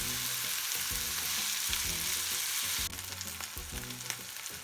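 Miso-marinated chicken sizzles and fries steadily in a pan, a loud continuous crackle with rhythmic low clatter, briefly dropping in intensity partway through as the pieces are turned.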